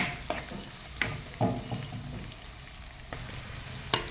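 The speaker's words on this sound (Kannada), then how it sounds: "ಈರುಳ್ಳಿ ನೋಡಿ ಗೋಲ್ಡನ್ ಫ್ರೈ ಆಗಿದೆ. ಕ್ಯಾಪ್ಸಿಕಮ್ ನಮಗೆ ಫ್ರೈ ಆಗ್ತಿದೆ." Onion and capsicum frying in butter in a pan, a gentle continuous sizzle with a few scattered scrapes and taps from stirring, close and fairly quiet, no speech.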